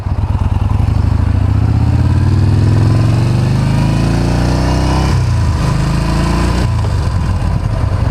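A 2014 Yamaha Bolt R-Spec bobber cruiser motorcycle engine under way, loud and close, its throbbing exhaust rising steadily through the revs and then dropping and climbing again at gear changes, with no talking.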